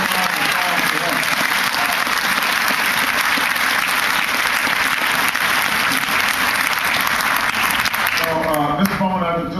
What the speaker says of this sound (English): I want everybody to give a big round of applause for that